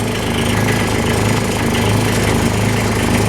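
Small engine of a light wood splitter running after a start, a loud steady rapid chugging drone close by, with no break for the whole stretch.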